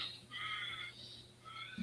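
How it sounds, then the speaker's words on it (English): Crows caw in a few short harsh calls at a moderate distance, two bursts separated by a brief gap over a quiet outdoor background. "Oh, the crows."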